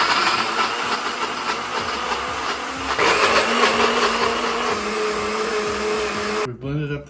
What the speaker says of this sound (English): We blended up the pesto.